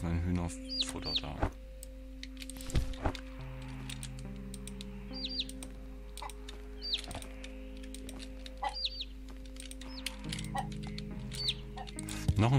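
Chickens cluck and chirp in repeated short bursts over a steady low game hum while playing Green Project, with several brief calls spread across the scene at moderate distance.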